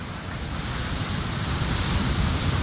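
Ocean waves breaking at the Fiji Pro surf contest: a continuous broad roar of surf, steady and fairly loud, slowly building, with no voices.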